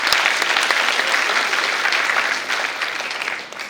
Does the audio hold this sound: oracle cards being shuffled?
no